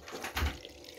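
Water poured into a Korean radish water kimchi: a short, soft splash and gurgle that swells briefly and then trails off, close and quiet, with no voices.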